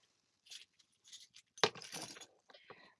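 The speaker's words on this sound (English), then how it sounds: "Let me take my keys out of the bag." Keys are pulled from a bag in a few bursts of metallic jingling, with one sharp bright clink at the middle and softer jangles after, close up and quiet, with no speech.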